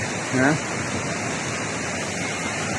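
A river rushes past a house after a landslide as a steady, broad roar of flowing water with no breaks, and a voice speaks briefly near the start.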